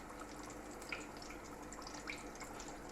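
Oil drips from freshly fried chicken wings as they drain, giving a faint background hiss with two soft, isolated drip sounds, quiet and close, and no talking.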